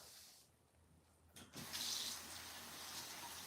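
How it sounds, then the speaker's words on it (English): Water running from a tap into a sink, starting quiet then gushing louder as the flow opens up, a steady close splashing stream with no talk. "Y'all know I don't really like playing with the water too much when I got y'all on here."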